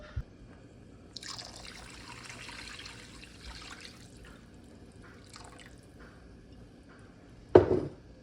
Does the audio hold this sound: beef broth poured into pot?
yes